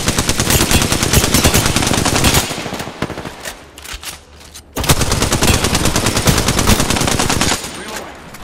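Sustained bursts of rapid automatic gunfire in Apex Legends Season 7, loud and close, break off for a brief lull midway, then resume in a dense stream of shots.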